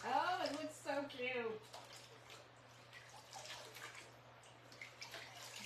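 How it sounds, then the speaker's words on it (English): Water rinses something, likely a seam being cleaned, with soft running and splashing at low level beneath a voice that starts out prominent and then fades. "Give it a good rinse."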